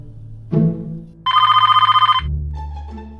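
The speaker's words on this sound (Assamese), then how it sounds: "ফোন আহিছোঁ" A telephone rings indoors in a comedy sketch: one loud burst of rapid, trilling electronic rings lasting about a second, set between brief rustling and low background sounds.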